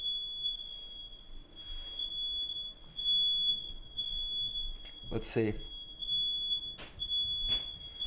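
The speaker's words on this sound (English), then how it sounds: "we got some fire alarms going off right now" Fire alarms go off in a building, giving a steady high electronic tone that sounds throughout at moderate loudness, with a few brief louder noises and some quiet talk.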